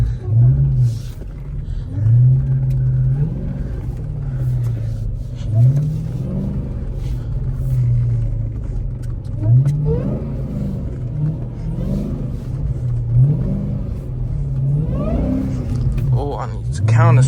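A Dodge Hellcat drifts in snow, its engine revving in repeated rising and falling surges. The engine is loud and continuous throughout, and someone talks over it.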